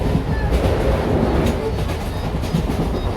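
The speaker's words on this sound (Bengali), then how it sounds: "এই তো ট্রেন" Train rolling past on the rail line near a bridge during an India tour, a steady loud rumble of wheels and carriages with faint clatter throughout.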